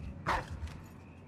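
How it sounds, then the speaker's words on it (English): Dogs in the video game Dishonored 2 give a single short, muffled bark-like yip, fairly faint against a low game background with no talk over it. "The dogs."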